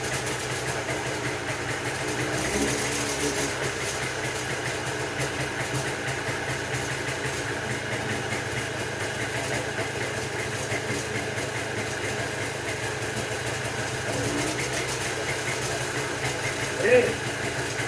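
A restored JAWA 350 barn-find motorcycle engine runs at a steady idle, a continuous close mechanical thrum with a slight knock that holds throughout, briefly rising near the end.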